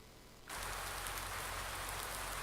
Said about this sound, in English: you still hear both that wind noise and the rain